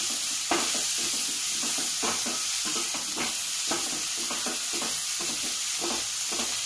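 Tomato masala with coriander and mint is stirred in a hot pan, with repeated close scrapes and clacks of the spoon over a soft, steady sizzle.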